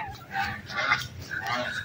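Domestic ducks calling near and fairly loud, a few honking quacks across two seconds, with a voice speaking alongside.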